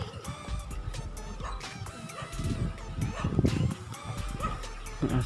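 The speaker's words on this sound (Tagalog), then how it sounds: "Tumatahol yung aso." A dog barks and yips amid busy outdoor noise during a jogging walk, with overlapping sounds and some passing traffic.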